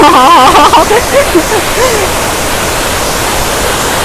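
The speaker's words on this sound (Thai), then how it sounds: "น้ำตกสวยข้างในยิ่งสวย" Water falls steadily inside a cave, a loud broadband rush that holds constant, with a brief warbling tonal sound in the first second.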